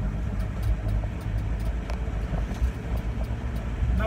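A Land Rover Defender 90 TDCi soft top idles steadily close by, its diesel engine giving a continuous low rumble with no other sounds.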